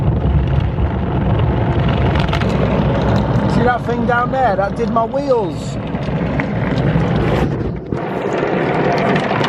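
Inside a car going through an automatic car wash, a loud continuous roar of water jets and brushes runs throughout, with a voice speaking over it.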